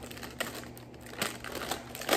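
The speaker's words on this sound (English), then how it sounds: "just to keep the wax paper in place, you can kind of fold this down and put a rubber band across your comb" Wax paper being folded over a comb, crinkling close by in a series of uneven crackly bursts and rustles, fairly loud and without speech.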